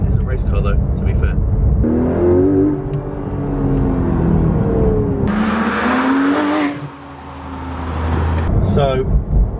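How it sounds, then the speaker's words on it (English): A Porsche 991 GT3 RS race car with a double-clutch gearbox, its engine droning loudly and rising and falling in pitch, with a sharp louder burst midway, while people talk over the noise inside the car. "It's quite noisy, isn't it? Yeah, it's a race car though, to be fair."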